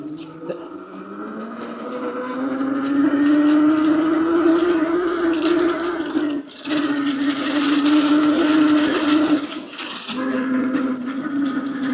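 An Eilleo SpaceWalk X01 electric dirt bike being ridden, its motor giving a steady rising whine that holds loud and close for the length of the ride, with a couple of brief dips and some wind noise.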